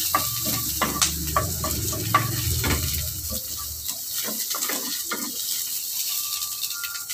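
Onions sauté in a pan while ampalaya is being cooked, a close sizzle broken by repeated scraping and stirring clatter from a utensil, busier at first and then quieter and sparser.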